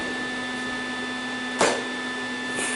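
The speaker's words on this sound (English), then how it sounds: "I have a little bit of a gap to weld up on this one." Welding up a gap on a hot rod stroller frame built from scrap metal, heard as a steady buzzing hum with a brief louder crackling burst partway through and a slight swell near the end.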